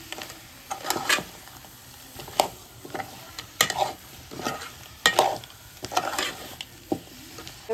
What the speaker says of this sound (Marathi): ते खेकडे मस्त मिक्स करून घेते